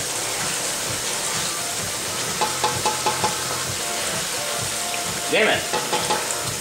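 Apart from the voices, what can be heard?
stir-frying hot chicken in a pan, steaming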